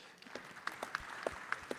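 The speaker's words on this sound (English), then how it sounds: "Big round of applause." A few scattered, faint claps from a small part of the audience at a global justice summit session in Expo City Dubai, spaced irregularly rather than building into full applause.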